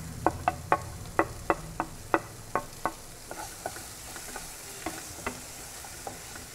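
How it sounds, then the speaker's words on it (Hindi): Peanuts roasting in a pan for peanut poha, stirred with a spatula: a dozen crisp clicks and scrapes in a steady rhythm that fade to quieter, sparser taps over a soft sizzle, no talking. "अब हम इसमें मूंगफली रोस्ट करेंगे।"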